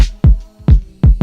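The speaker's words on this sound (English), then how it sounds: "using some standard boom bap sounds like this stubby sounding kick" Four short, punchy, stubby boom bap kick drum hits with a quick decay, loud and dry, in a steady boom bap pattern with gaps between them.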